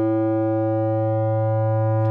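An FM synthesizer holds a steady static tone, a loud buzzy sustained note rich in even harmonics that stays unchanged in pitch and volume throughout, with no talking.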